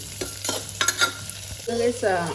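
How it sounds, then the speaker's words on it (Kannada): Onions frying in oil in a pan until browned, a steady close sizzle with intermittent scraping and stirring strokes and a faint hum beneath, no talking. "ಈರುಳ್ಳಿ ಸ್ವಲ್ಪ ಚೆನ್ನಾಗಿ ಕಂದು ಬಣ್ಣ ಬರೋವರೆಗೂ ಎಣ್ಣೆಲಿ ಫ್ರೈ ಮಾಡಿಕೊಂಡ್ರೆ ತುಂಬಾ ಚೆನ್ನಾಗಿರುತ್ತೆ"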